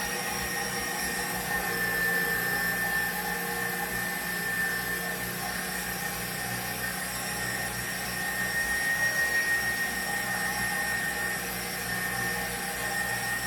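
A KitchenAid Gourmet Pasta Press extruding rigatoni dough gives a constant, even motor whine and hum that stays at a steady level throughout with no talk.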